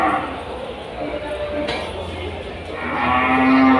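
Cattle moo at the Pasar Kliwon Kudus cattle market, with a low drawn-out call swelling near the end amid crowd noise and nearby talk.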